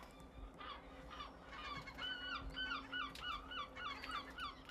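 Birds on an abandoned ship where they nest call in repeated honking, goose-like cries, some overlapping, at moderate distance over a low steady hum.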